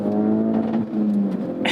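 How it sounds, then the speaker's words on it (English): A 2018 Ford Focus RS with the optional Ford Performance exhaust pulls away hard in sport mode, a loud, close engine note rising in pitch, dipping briefly at a shift, then climbing again. "This has the optional Ford Performance exhaust."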